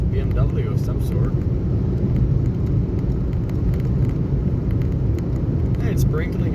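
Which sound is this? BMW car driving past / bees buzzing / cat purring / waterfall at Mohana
BMW car driving past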